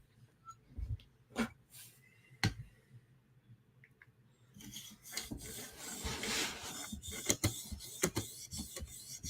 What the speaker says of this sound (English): So it's the 800 grit premium half-stone CBN, cleaning up 400 grit edge just with 1 pass.